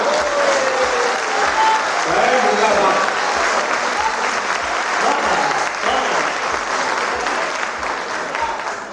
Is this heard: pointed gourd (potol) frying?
no